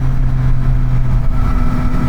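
A 2023 Yamaha MT-09 motorcycle engine drones loudly at highway speed, a steady low rumble with a slight pitch shift as it changes gear through the quick shifter, with wind noise mixed in.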